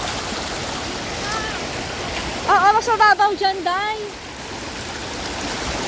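Steady rushing water from waves and current at a hidden beach paradise in Oriental Mindoro, a constant broadband wash heard close, while a person talks briefly over it.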